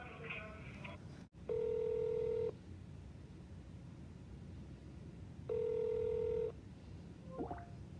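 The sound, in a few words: telephone call being dialed and ringing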